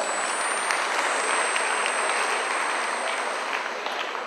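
A theatre crowd claps for the cast of a Greek play about Kapetan Diplas, sustained and thick, with no talk, keeping a level intensity before easing slightly near the end.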